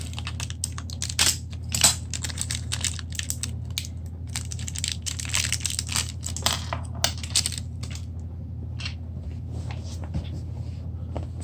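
Packaging for a Pilot TPMS valve sensor is cut open close by, with scattered crinkling, tearing and plastic rustling in irregular bursts, then quieter handling.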